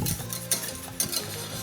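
Thickened sauce for Parisian gnocchi being stirred in a pan with a utensil, a steady scraping and swishing with light metallic clinks and a faint sizzle underneath, close up.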